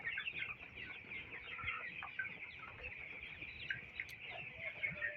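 Many broiler chickens on a poultry farm cluck softly and continuously, a dense, low-level murmur of fowl with no talking over it.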